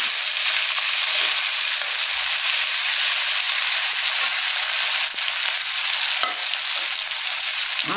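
Capsicum, beans and onion stir-fry in a hot pan with a loud, dense, continuous sizzle, broken by occasional faint scrapes of the spatula.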